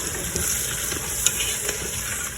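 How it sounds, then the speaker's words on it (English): Blended tomato hits a hot pot of Malawi-style local chicken stew, giving a steady close sizzle and frying hiss with a few soft stirring clicks. "So I'm gonna add the tomato to it."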